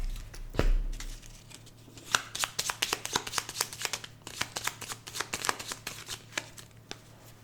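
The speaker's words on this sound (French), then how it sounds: "je vais retourner une autre carte" Tarot cards are handled and shuffled close up during a reading, with a rapid run of crisp papery flicks and riffles after a soft thump, and no speech over them.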